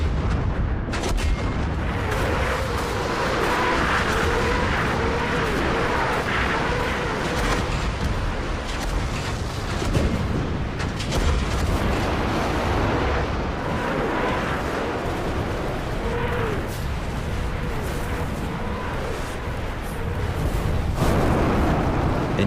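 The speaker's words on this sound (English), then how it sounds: "they unleash their artillery and Katyusha rockets" Soviet artillery and Katyusha rocket barrage opening a night offensive, a dense, continuous rumble of blasts and booms rolling without pause at steady high loudness throughout.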